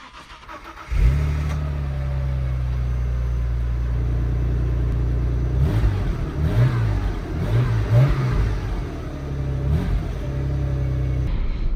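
An Audi A6 Allroad with the 2.7T engine rumbles at idle, then pulls away and accelerates, its engine note climbing and shifting through gears, loud and close from inside the car, with no talking.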